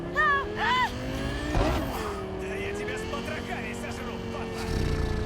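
Tuned car engine on a road in the video game Cyberpunk 2077, revving and droning with shifting pitch, a squealing sweep midway, and game character voices talking over it at the start.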